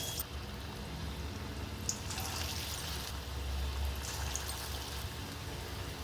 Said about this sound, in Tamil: இப்போ போண்டாவை பொரிச்சு எடுத்துக்கலாங்க.